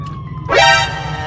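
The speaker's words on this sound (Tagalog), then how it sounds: "Teka, may ambulance." A brief ambulance siren bursts in loud and close over steady low traffic rumble on a busy road, one rising wail sweeping up then holding.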